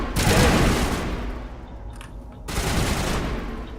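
Gunfire in Mass Effect, dense rapid bursts of shots in two loud volleys separated by a brief quieter lull.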